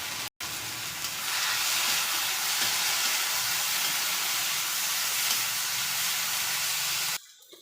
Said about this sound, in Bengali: এবং ডালটা আগেই ভেজে নেব